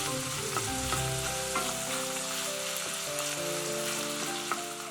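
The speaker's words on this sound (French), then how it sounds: "je commence par faire dorer doucement les lardons au beurre." Bacon lardons fry gently in butter in a pan, giving a constant close sizzle with occasional stirring, and no voices.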